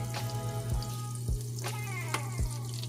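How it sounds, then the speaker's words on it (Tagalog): Butter and a little sesame oil sizzle in a preheated pan, a steady close frying hiss with a few louder crackling pops scattered through it and a constant low hum underneath. "maglagay po tayo ng butter. Maglagay tayo ng konting sesame oil"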